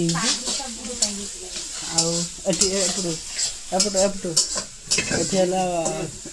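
Chicken coated in masala is stirred and fried in a pan, with a spoon scraping and clinking against metal amid steady sizzling, while people talk over it throughout.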